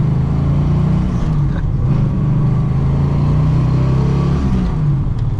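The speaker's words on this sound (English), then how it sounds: "it also does have a custom 3-inch exhaust, which you probably heard there" A turbocharged Holden Torana with a custom 3-inch exhaust roars loudly and close, a deep throaty exhaust drone holding steady with slight rises in pitch throughout.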